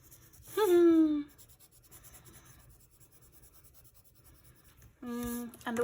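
Coloured pencil layering colour on paper, a soft intermittent scratching close by, interrupted by a short child's vocal sound and a later brief voice.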